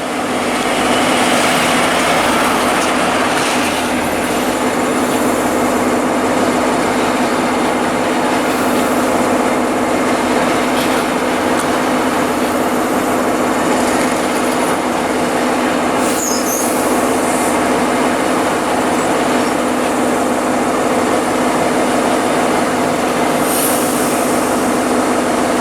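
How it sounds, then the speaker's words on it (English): Great Western Railway HST bound for London Paddington pulls into Reading station, a loud continuous rumble with a steady engine hum, wheel noise and occasional high squeals and clanks, no talking. "Arriving in now is a Great Western Railway HST bound for London Paddington"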